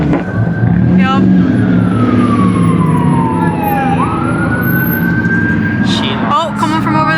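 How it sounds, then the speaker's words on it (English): An ambulance siren wails loudly nearby in Las Vegas during SEMA week, its tone sweeping down and then switching pitch, over heavy engine and traffic noise with voices talking. "That's an ambulance."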